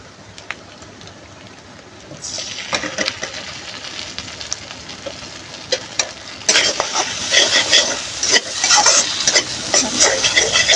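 Sauce goes into a pan of fried egg seasoned with chicken masala over low heat, met by a rising hiss and sizzle while a utensil scrapes and taps in quick irregular strokes, close and loud, with no talking.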